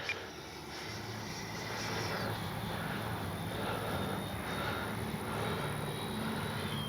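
FMS 80mm F-86 RC jet flying, a steady airy whine and rush that swells slightly and holds, heard from a distance with no talk.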